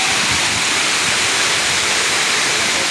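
A waterfall at a scenic viewpoint, water plunging a long way down, gives a steady, loud broadband roar that runs unbroken throughout with no voices.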